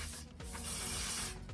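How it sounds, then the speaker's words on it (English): Silicone spray hisses in a continuous close burst onto the end of a rigid heater pipe, broken by short gaps at the start and end. "spray it on the end of the rigid pipe"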